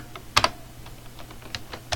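Quick typing of a Python command on a computer keyboard, several soft, close key clicks with one sharper double tap near the start, in a quiet room with no voices.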